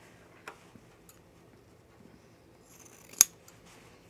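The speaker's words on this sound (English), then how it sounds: "I'm going to trim it down a little bit" Scissors trimming a fabric seam during sewing: a few quiet snips, then one sharp, close cut stands out in a near-silent room, with no talk.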